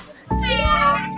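A voice imitates a cat with a single drawn-out meow, close and clear.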